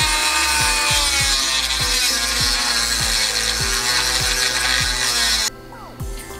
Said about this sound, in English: So we're going to Dremel them down and make the surface completely flush